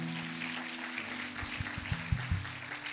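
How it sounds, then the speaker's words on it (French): A church congregation breaks into applause during a sermon, with a sustained wash of clapping and a few louder claps rising near the end. "Acclame pour toi, bien-aimé"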